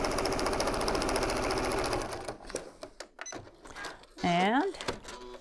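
A sewing machine stitches the final seam of a paper-pieced heart quilt block, running in a fast, steady mechanical chatter for about two seconds before stopping, followed by scattered handling clicks and a brief squeaky rising whine.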